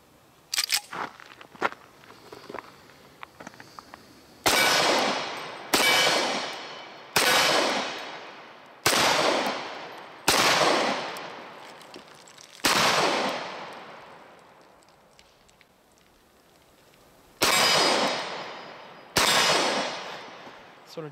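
Shots from a Dan Wesson Specialist 1911 pistol ring out one at a time at an uneven pace, seven sharp, loud reports, each trailing off in a short echo, after some faint handling clicks and with no talking.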